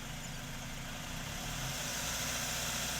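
A car engine held steady at about 2,000 RPM, a continuous low hum with a slight rise in loudness, heard alone with no talk.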